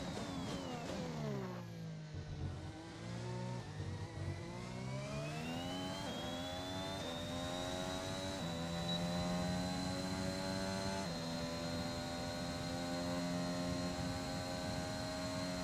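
Race car engine held at high revs through a lap in F1 2021, the pitch dipping under braking around 2 seconds, then climbing smoothly through the gears to a sustained, steady near whine.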